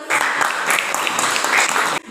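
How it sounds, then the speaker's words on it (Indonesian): A group of students applauds in a classroom after a chemistry presentation on acidic, basic and neutral solutions, with brisk continuous clapping that stops abruptly near the end. "Tepuk tangan."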